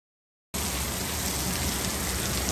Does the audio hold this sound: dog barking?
no